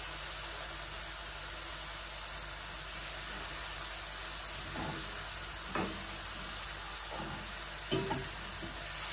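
Kochu lati cooks with prawns and dried fish in a pan, Bangladeshi village style, making a continuous hissing sizzle with a few soft stirring knocks over it and no talk.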